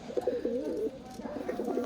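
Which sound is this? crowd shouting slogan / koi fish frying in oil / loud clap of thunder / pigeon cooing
pigeon cooing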